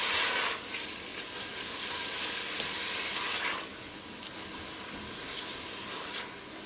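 Meat and onions frying together in a pan with green seasoning of garlic, thyme, cilantro, green onion and pepper, a steady close sizzle with brief louder bursts of crackle.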